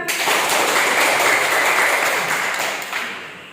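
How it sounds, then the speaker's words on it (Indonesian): A class of students applauds in a classroom, a dense, close burst of many hands clapping that holds steady for about three seconds before fading out. "Baik, silakan beri tepuk tangan"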